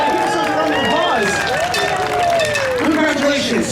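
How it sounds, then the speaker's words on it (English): An audience at a Disneyland cooking show claps and cheers continuously, with crowd voices calling out over steady, fairly loud applause. "Give us a round of applause."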